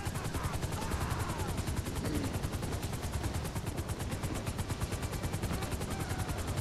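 Rapid automatic gunfire in GTA 5, a continuous fast rattle of evenly spaced shots that stays loud and dense throughout with a helicopter nearby.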